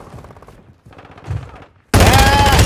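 Sudden loud burst of automatic gunfire in Call of Duty, a dense rapid stream of shots cutting in after quieter game sounds and continuing to the end.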